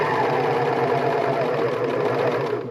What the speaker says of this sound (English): I'm going to sew all the way up to the very edge of the casing, and then I'm sewing right off.